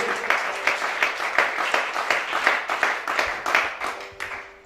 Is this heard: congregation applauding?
yes